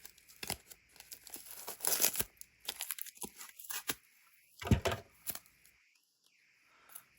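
Tape torn off a roll during holiday journal crafting: a run of quick, crisp ripping and crinkling bursts, close and fairly quiet, clustered irregularly with short pauses and no talk.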